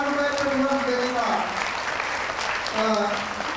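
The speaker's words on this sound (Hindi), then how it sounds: "हम उनकी तालियों से स्वागत करेंगे।" Continuous applause from a satsang gathering welcoming donors, a steady wash of clapping with a voice talking over it at moments.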